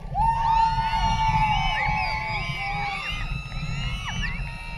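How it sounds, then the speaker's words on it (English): A cheering section whoops, yells and cheers for a graduate at a high school commencement, a loud burst of overlapping shrill voices and whistle-like whoops that stays lively throughout. "You got a big cheering section, man."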